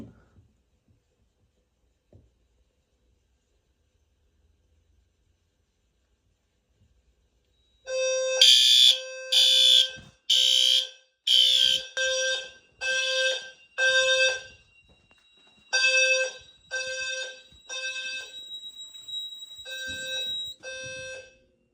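A defective Notifier heat detector fire alarm stays silent at first, then sounds loud, close, pulsing electronic tones in repeated bursts with short gaps between them.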